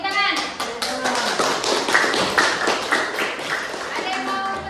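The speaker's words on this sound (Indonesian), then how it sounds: "Oke, tepuk tangan." Students in a high school classroom clap together in a quick burst of hand claps, fairly close and busy, with voices mixed in.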